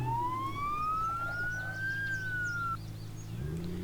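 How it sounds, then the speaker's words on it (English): A police car siren in the BeamNG.drive driving game sounds a single long rising and falling wail that stops abruptly, over a steady engine drone, with no talking. "how the siren works is you turn the lights on and then you click it again"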